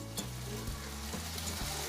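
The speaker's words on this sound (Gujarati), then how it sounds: "તેલ ગરમ થઈ ગયું હતું એટલે આપણે એમાં બટેટા નાખી દીધા" Potatoes frying in hot oil with curry leaves, a soft, steady sizzle and a few scraping stirs, close up with a low hum underneath.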